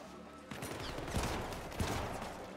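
Sniper gunfire in the video game Syndicate, sharp broadband cracks standing out from a steady bed of game ambience, with a couple of louder shots near the middle and end.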